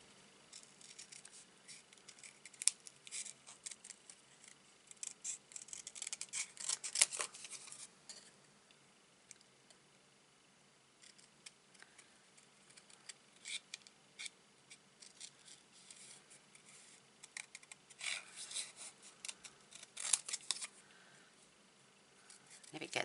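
Scissors fussy-cutting small paper boots for a handmade card, giving soft, intermittent snips and paper rustles in irregular bursts, close and quiet, with pauses between cuts and no talking.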